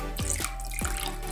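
Water poured into a liquid aloe vera soap mixture, giving a soft close trickle and splash with a couple of gurgling drops, fairly quiet.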